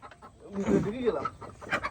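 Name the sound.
desi (native) chickens clucking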